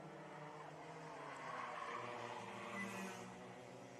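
A racing kart at a Fullbeck Kart Club championship round comes out of the paddock turn, its raucous engine and exhaust droning steadily at mid distance, swelling slightly as it passes, with no talk over it.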